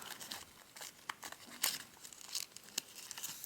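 Origami paper folded by hand into a bull, with soft crinkling and sharp creasing snaps in an irregular rhythm, close and quiet.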